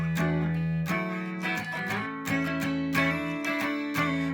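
Electric guitar lick played across three strings with a pinky hammer-on, a short run of clear, close, sustained picked notes shifting in pitch, with no talk.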